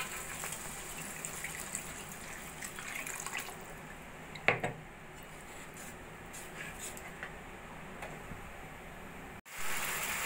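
Water poured from a rinsed mixer jar into a pan of simmering katla fish curry, a steady watery gush running for most of the stretch, with a brief splash midway and no talk.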